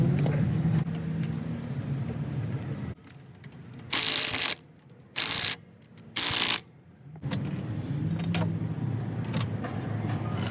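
A socket wrench clicks in three loud, short ratcheting bursts on the 17 mm lug bolts of a Volkswagen Jetta wheel, with quiet gaps between them and duller mechanical background before and after.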